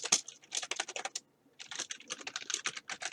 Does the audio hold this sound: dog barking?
no